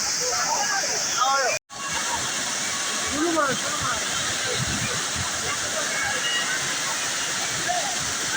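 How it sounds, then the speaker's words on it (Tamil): Courtallam's main waterfall crashes down in a dense, loud, continuous roar of pouring water, with a brief dropout near the start and people's voices faintly audible beneath the torrent. "ஒரு அடியாக ஊற்றுது பாருங்கள் தண்ணி, அடித்து நவுத்துது மெயின் அருவி."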